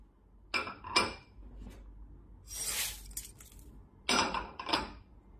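Five-grain rice being washed in a steaming tray, with close clinks and knocks against the tray, a burst of splashing, rinsing water in the middle, then more clattering, with no talk.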